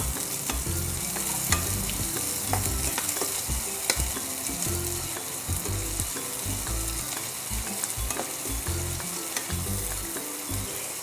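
Onions fry in a pan with a loud, continuous sizzle and crackle. A spatula stirs them in repeated scraping strokes, heard up close without any talking.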